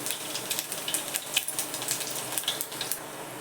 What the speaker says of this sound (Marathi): दोन तीन दोनच पाकळ्या अगदी लसणाच्या एवढा चेचून टाकते फक्त फोडणीसाठी